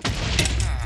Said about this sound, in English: Enemy airship firing at us.